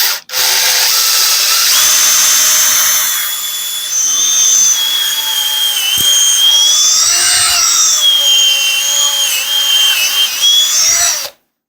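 A power drill whines steadily at high pitch for about ten seconds, its tone shifting slightly as it bores a hole through wood using a pocket-hole jig, then cuts off.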